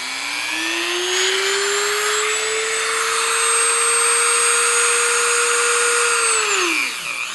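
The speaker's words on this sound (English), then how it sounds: "So where I take the trusty Dermel with my big sanding drum," A Dremel rotary tool with a large sanding drum spins up to a steady high-pitched whine on high speed, holds loud and close, then winds down at the end, working foam armor.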